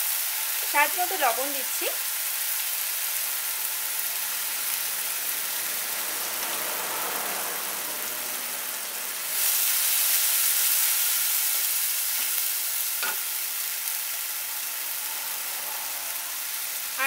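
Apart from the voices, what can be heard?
ginger garlic green chilli paste frying in pan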